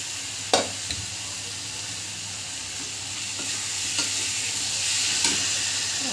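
Fried potatoes, boiled peas and mutton fat are sautéed with spices in a pan and stirred, giving a continuous close sizzle broken by a few sharp spatula clacks and scrapes spaced a second or so apart.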